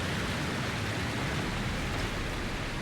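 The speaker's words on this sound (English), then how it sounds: "I can't hear myself think over this waterfall." A loud, steady roar of falling water from a waterfall in the video game Dragon Age: Inquisition, a dense unbroken wash of noise filling the whole clip with no talking.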